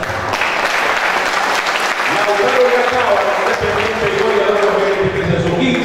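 Sustained applause from an awards-ceremony audience at a youth football league prize-giving in Chile, honouring the under-15 top scorer, with a voice talking over the clapping throughout.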